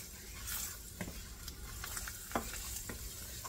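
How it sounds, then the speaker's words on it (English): Garlic frying in a pan while green papaya and pumpkin are cooked, giving a steady sizzle with a few stirring scrapes and clicks, close and moderately quiet with no talking. "I'm going to let my garlic burn and smell"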